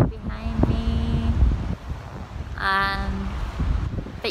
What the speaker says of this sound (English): It's just slightly windy.